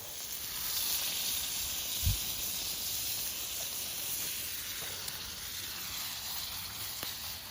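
Sweet and sour sauce sizzles steadily in a pan at an overnight camp, a continuous soft hiss with no voices.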